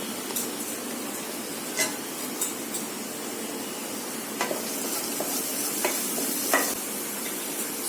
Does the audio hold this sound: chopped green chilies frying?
yes